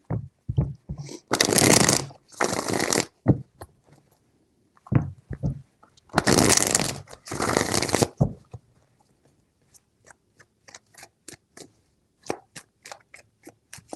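Tarot cards are shuffled by hand in two quick bursts of riffling, each lasting about two seconds, separated by light taps and soft handling clicks in a quiet room.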